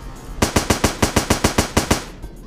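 Starbound video game guns firing a rapid, evenly spaced string of about a dozen loud, punchy shots, close and alone against a quiet background.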